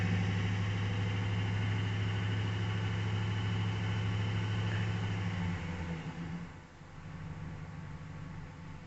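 A 5.3 V8 engine held at raised revs through an electric throttle drones steadily up close, then its pitch falls back toward idle after about six seconds.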